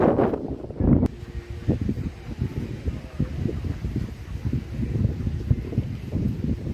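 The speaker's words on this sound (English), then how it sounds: "It is windy." Gusty wind buffets the microphone outdoors with a low, uneven rumble and rustle that rises and falls throughout.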